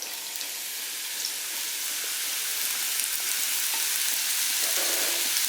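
Chopped papaya frying in a hot oiled pan gives a steady, bright sizzle with faint stirring scrapes, close and constant, with no voices.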